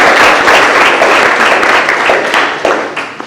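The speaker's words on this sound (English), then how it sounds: "please give them a round of applause, because they've done a wonderful job" Audience applause for the transcribers at a college honors showcase of oral presentations, a dense, steady clapping that fills the hall from start to finish and thins slightly toward the end.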